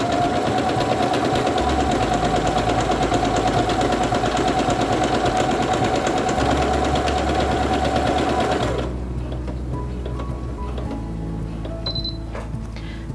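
A Singer Quantum Stylist 9960 sewing machine runs steadily, stitching out a programmed stitch sequence with a fast, even mechanical whir that stops after about nine seconds, leaving a quieter hum and faint clicks.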